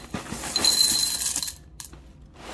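Crisp Pokémon cereal pieces rattle and clink as they are poured into a bowl, a dense bright patter for about a second and a half, followed by a couple of faint stray ticks.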